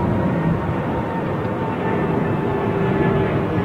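A single-aisle jet airliner roars steadily during departure at London Heathrow Airport, a dense continuous engine noise at moderate distance with no voices.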